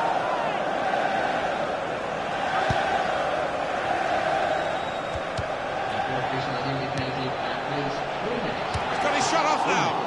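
Stadium crowd noise in a FIFA career mode football match, a broad continuous roar swelling around a late corner, with commentary voices talking over it.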